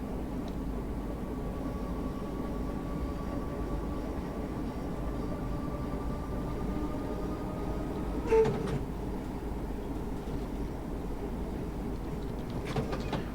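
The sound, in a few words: Class 313 train driving in video game Train Sim 2020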